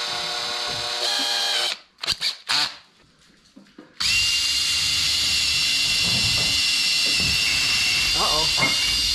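A power drill drives bolts into a shop wall in loud steady whirring runs, cut by a short quiet gap with a few knocks before the motor roars back on.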